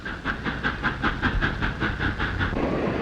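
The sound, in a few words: train moving on railroad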